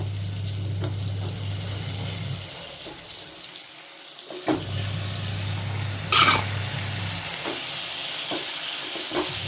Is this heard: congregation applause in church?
no